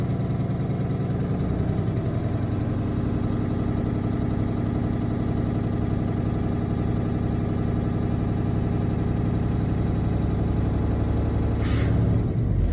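A diesel truck idles with a steady low rumble and drone while an air brake is set. It ends in a short, sharp hiss of released air near the end, all close by and without talk.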